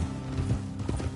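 Horse hooves in Red Dead Redemption 2, an outlaw western video game, a soft rhythmic clip-clop of mounts walking along a dirt road, moderately close and steady with no talk.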